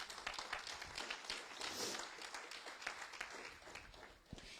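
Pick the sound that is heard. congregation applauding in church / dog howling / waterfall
congregation applauding in church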